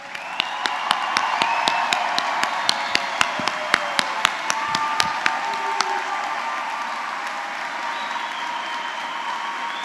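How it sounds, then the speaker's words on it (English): Graduates at the Caldwell University commencement applaud themselves in a big hall, a broad wash of crowd clapping with a few loud, crisp nearby claps standing out and some cheering mixed in. "stand up and give yourselves a round of applause"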